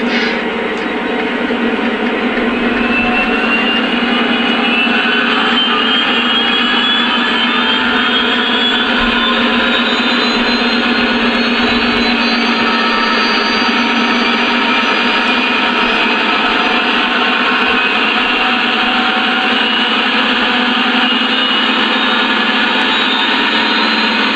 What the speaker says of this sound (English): Next up is the RPM levels of the prime mover.